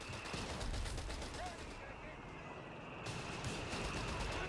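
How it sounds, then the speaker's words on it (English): Enemy gunfire in The Old World strategy game: a steady, dense wash of distant battle fire with scattered shots running under the whole stretch, with voices faintly mixed in. "Enemy fire! We've got enemy fire!"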